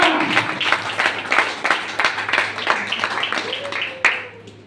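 A seminar audience claps in rhythmic bursts that build and fade, with a voice speaking over the clapping and a sustained tone near the end.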